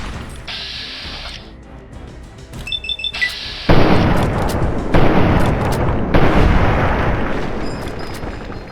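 Explosion in Fallout 3, a sudden loud booming blast that follows quieter game sounds and then rumbles on, with a second surge of heavy roaring noise.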